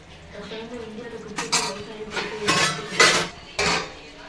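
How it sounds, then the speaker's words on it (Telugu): Spoon scraping and clanking in a pot of chicken masala, a handful of distinct metallic strokes at irregular intervals, fairly close, with faint background noise. "బాగా కలుపుకుంటున్నాను"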